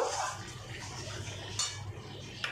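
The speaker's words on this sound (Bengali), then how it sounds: "দেখো আমার এই মশলাটা কষানো হয়ে এসছে, আমি আর একটু নাড়াচাড়া করব" A utensil stirs thick spice paste in a pan, making close metallic scrapes and clinks against the pan in a brief burst, with no talking.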